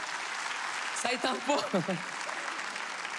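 Comedy-show audience applauding during a stand-up set on marriage, a steady wash of clapping through the whole stretch with a voice talking over it briefly.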